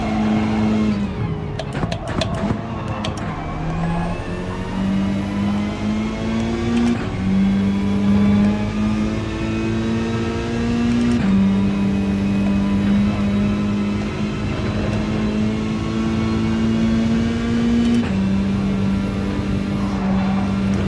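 A race car laps Mount Panorama on cold tyres in a racing video game, its engine loud and close, revving up through the gears with stepped rises and drops in pitch, a steady whine carrying over the whole stretch, no talk.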